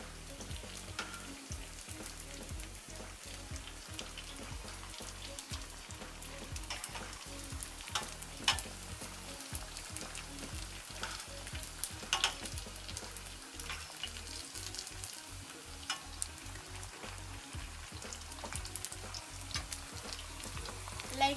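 Pieces of food frying in a pan of hot oil, each one swimming apart from the others, giving a steady, dense sizzle and crackle with small pops all the way through and no voices.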